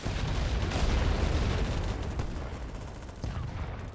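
Dense, sustained gunfire in the online shooter BattleBit Remastered, overlapping shots and bursts rolling continuously at high level with a brief lull near the end.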